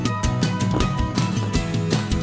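Someone eating roasted almonds, walnuts, hazelnuts and cashews with cranberries, loud close crunching and chewing in a repeated rhythm of bites, with no speech over it.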